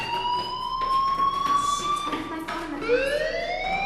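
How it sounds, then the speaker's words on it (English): A fire alarm blares inside the Life is Strange video game, a loud, continuous electronic tone with layered harmonics that holds steady and then sweeps upward in pitch near the end. "do you hear that fire alarm? That means you should be outside."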